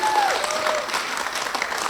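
Steady, lively applause from guests at a Kazakh bride's send-off celebration, with a faint voice or tone briefly under the clapping.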